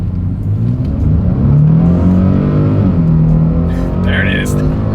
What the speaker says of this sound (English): Let's put the acceleration here to the test first, and let's see how quickly we can get this one here up to speed.